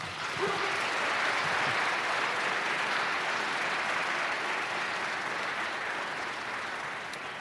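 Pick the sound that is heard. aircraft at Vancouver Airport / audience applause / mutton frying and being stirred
audience applause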